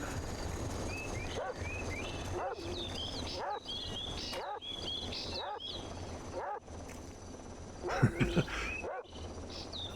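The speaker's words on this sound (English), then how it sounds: "Oh man, look at dogs, I can hear dogs." Several dogs in Operation Flashpoint bark repeatedly in short overlapping bursts, fairly close, with a few louder yelps near the end over a steady background hum.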